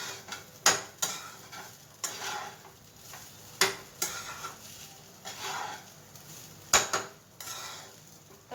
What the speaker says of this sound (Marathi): व्यवस्थितपणे फ्राय करून घेणार आहोत.